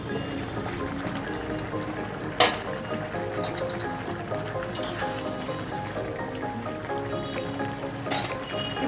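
Chili chicken sauce thickened with arrowroot bubbling and sizzling in a covered pan, a continuous close simmering hiss with a few sharp clicks and pops along the way, no voices.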